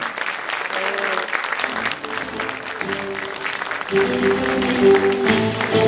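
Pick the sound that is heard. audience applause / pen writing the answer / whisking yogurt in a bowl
audience applause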